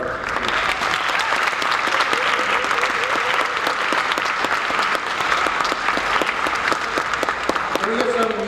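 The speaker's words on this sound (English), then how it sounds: "Another round of applause for our..." Sustained audience applause at a mariachi concert, dense steady clapping filling the whole stretch, with some voices and cheers mixed in beneath it.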